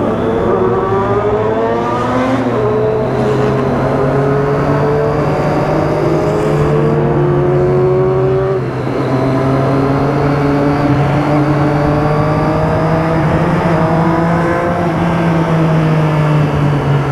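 A loud engine revs continuously up close, its pitch climbing and holding in long sustained pulls with a roaring exhaust.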